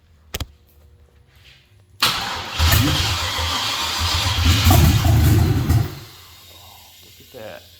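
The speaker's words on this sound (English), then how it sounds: "and it should crank on its own." An LS V8 swapped into a square body truck cranks after a short electrical click, a loud churning starter-and-engine roar for about four seconds, then cuts off, followed by faint movement noise.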